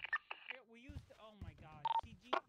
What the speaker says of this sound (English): I got Carmine on the phone